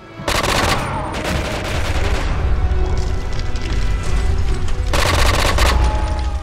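Full-auto gunfire in the Quantum of Solace video game: loud, sustained rapid bursts with a short pause near the middle and a final burst, dense and close with no talking.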